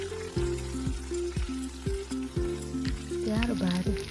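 Cumin, peanuts, green chillies and curry leaves sautéing in hot oil for sabudana khichdi, a steady crackling sizzle running under prominent melodic background music throughout.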